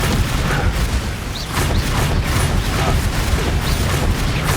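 Bombarda explosion spells in Hogwarts Legacy go off in a dense, loud run of booming blasts and crackling bursts, one after another with no pause.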